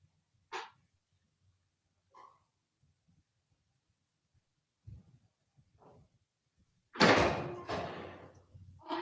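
A door in a judge's courthouse meeting room swings and closes with a heavy thud and rattle, followed by a louder burst of handling and latch noise near the end, after scattered quiet knocks and footsteps.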